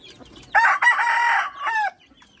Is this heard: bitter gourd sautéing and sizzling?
no